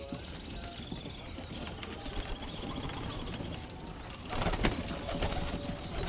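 Pigeons cooing nearby, soft repeated throaty coos over a busy outdoor background, with a louder flurry of sound toward the end as birds move.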